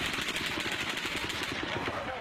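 Rapid automatic gunfire from the mass shooting at a crowded country music concert, a continuous rattling stream of shots heard from a distance with crowd noise and voices mixed in.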